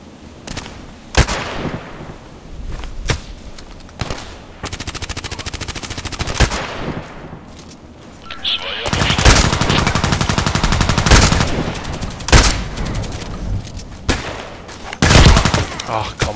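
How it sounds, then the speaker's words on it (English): Rapid bursts of automatic and single gunfire from the online shooter Contract Wars, loud and close, with sharp repeated shots clustered through the clip and heavier sustained firing in the second half. "Sometimes you can shoot through the walls and get damage."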